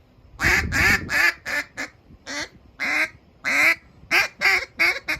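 A duck call mimicking a hen: a series of loud, nasal quacks in uneven bursts, close and unaccompanied by talk.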